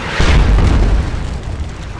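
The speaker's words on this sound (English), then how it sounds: "Massive artillery strikes coming in at this point." Artillery strikes in the Napoleonic battle game Scourge of War: Wavre: one loud, deep boom that hits hard and then rumbles off over about two seconds.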